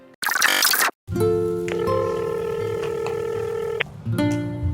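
Telephone call sound effect: a short burst of noise, a brief gap, then steady layered dial and ringing tones holding for several seconds before another short burst, with no speech.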